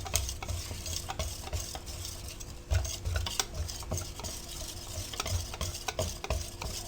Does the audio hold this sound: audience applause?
no